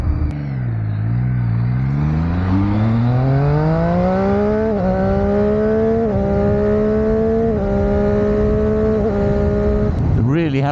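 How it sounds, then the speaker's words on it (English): A Triumph Street Triple 675 motorcycle with 30,000 miles is ridden hard, its engine induction note loud and close, rising steadily in pitch with several gear changes before it drops off at the end. "They really have got that induction sound down to a T."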